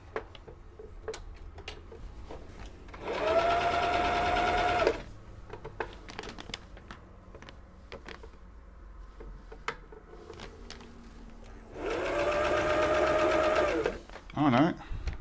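Old Husqvarna sewing machine running a zigzag stitch, two steady mechanical whirring bursts of a few seconds each, close, separated by quieter clicks and handling noises.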